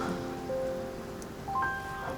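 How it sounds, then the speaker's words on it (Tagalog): Heavy rain pours down in a steady, dense hiss, with faint musical tones rising over it and no voices. "Ay, ang lakas na naman ng ulan!"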